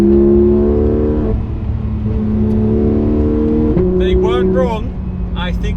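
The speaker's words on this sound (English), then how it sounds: "This is the best sounding gear changes I've ever experienced on a Porsche." A Porsche 911 GT3 RS engine drones steadily, then dips and climbs again through a quick gear change, loud and continuous from inside the car, with faint tyre and cabin noise throughout.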